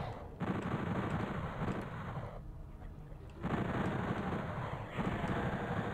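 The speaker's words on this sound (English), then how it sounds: "Let's go with a machine gun here." Rapid gunfire from a machine gun in the 1996 Sega Saturn port of Doom, loud and continuous in sustained bursts with a brief drop in the middle, no talking over it.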